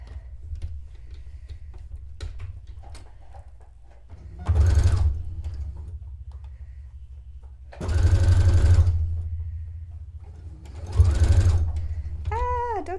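A sewing machine stitches lace with right sides together, running in three short whirring bursts separated by quiet pauses, loud and close.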